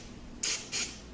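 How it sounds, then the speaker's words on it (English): Two quick spritzes of nonstick cooking spray hiss onto a cooking surface, each a short, sharp burst, the second following about a third of a second after the first, close and fairly loud. "I'm going to start off by prepping my surface with a little bit of nonstick spray"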